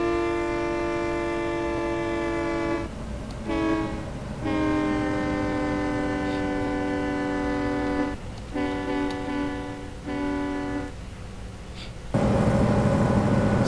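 Locomotive horn in a train simulator game on a Polaris F5 diesel, sounded in several long multi-tone blasts with short breaks over a steady rolling rumble, no talk.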